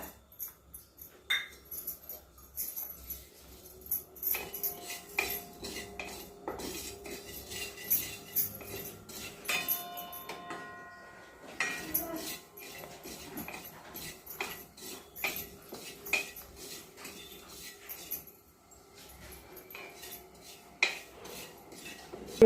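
Poppy seeds and garden cress seeds dry roasting in a pan without ghee for gond ladoo, heard as quiet close scraping and light metallic clinks of a spatula, irregular and sparse, with no speech.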